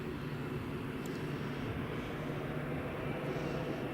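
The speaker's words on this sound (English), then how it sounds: "the Ryanair is just lining up now." A Ryanair plane lines up on the runway at Madeira Airport, giving a faint, steady distant engine rumble with no talk.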